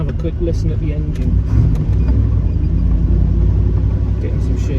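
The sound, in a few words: Jensen Healey V8 engine idling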